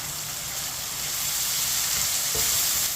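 Chopped green chilies and tomatoes cooking in a pan, a steady close sizzle and hiss with one soft knock of a spoon near the end.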